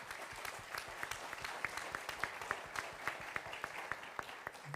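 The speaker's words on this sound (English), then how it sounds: "I think, yes, it's worth an applause." Audience applause at a closing plenary session of a skills conference, steady scattered clapping from a moderately sized crowd, heard at a distance and holding evenly throughout.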